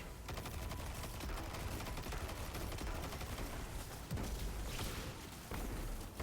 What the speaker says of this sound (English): I have anti-barrier auto rifle